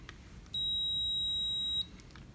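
A multimeter's continuity test gives a single steady high-pitched electronic beep lasting a little over a second, loud and close over faint background hum, during mini fridge troubleshooting.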